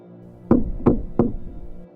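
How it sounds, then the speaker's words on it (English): Three slow, deliberate knocks on a wooden door, evenly spaced and close by, each hit sharp with a short resonant decay, alone in an otherwise quiet room. "Slow and deliberate knocks on my wooden door."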